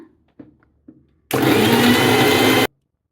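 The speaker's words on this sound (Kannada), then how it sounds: "ಇವನ್ನೆಲ್ಲದಕ್ಕೂ ಸ್ವಲ್ಪ ನೀರು ಹಾಕಿಬಿಟ್ಟು ಮಿಕ್ಸಿ ಮಾಡ್ಕೋಬೇಕು" An electric mixer grinder whirs loudly, blending spices with a little water for a vegetable pulao masala, a steady harsh roar of about a second and a half after a few soft clicks and taps.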